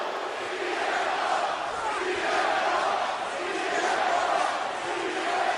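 A virtual arena crowd in the WWE 2K25 wrestling video game roars and cheers continuously, a dense, loud, sustained wall of voices with slight swells and no clear individual words.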